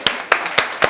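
Four sharp hand claps in a steady rhythm from a newsroom team gathering, close and loud.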